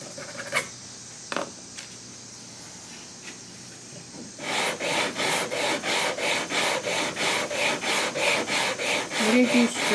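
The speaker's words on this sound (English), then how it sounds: "to make sure that everything's sanding evenly" Rhythmic back-and-forth rubbing as a wooden piece is sanded by hand, steady strokes starting around four seconds in after a few scattered knocks and scrapes, close and moderately loud.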